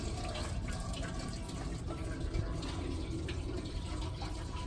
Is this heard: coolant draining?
yes